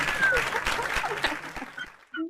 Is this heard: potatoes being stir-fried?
no